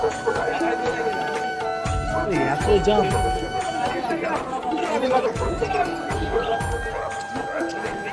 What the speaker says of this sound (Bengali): যেহেতু আজ রবিবার সেই কারণে প্রচণ্ড ভিড়